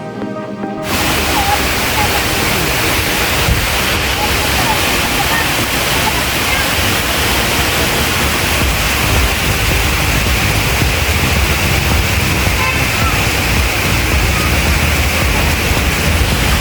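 Kuvappally waterfall at Kanjar on the Thodupuzha–Pullikkanam road in Idukki, Kerala, roars as a loud, steady rush of falling water that fills the whole span without letup, beginning just after a brief quiet moment at the start.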